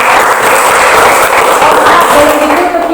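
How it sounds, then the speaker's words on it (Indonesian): Loud, close applause from a classroom group fills the whole moment, a dense continuous clatter of hands with a faint voice briefly rising near the end. "Tepuk tangan untuk"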